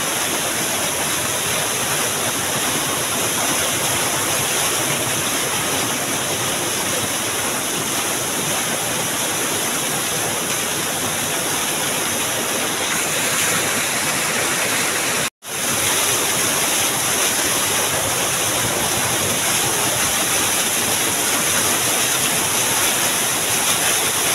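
Badkaguda waterfall roars in a steady, dense wash of falling water, loud and continuous, broken by one brief dropout near the middle.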